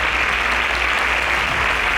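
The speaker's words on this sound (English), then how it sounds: "Please, a round of applause for them." Steady, dense applause from a studio audience at a Nigerian semi-final competition show, filling two seconds at full strength with no break and no voices over it.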